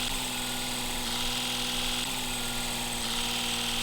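A small pulling tractor engine drones continuously and loudly at a steady pitch throughout, with no talking over it.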